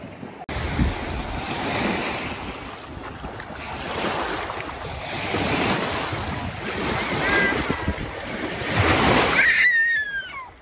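Sea waves surge and wash over a rocky, mossy shore at Alaçatı, loud and close with wind buffeting the microphone, rising and falling in several swells and growing strongest near the end.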